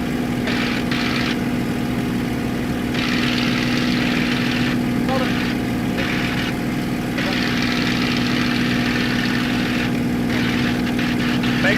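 A Spitfire's propeller engine drones loudly and steadily from inside the aircraft in flight at high power, a constant heavy roar with brief bits of talk over it.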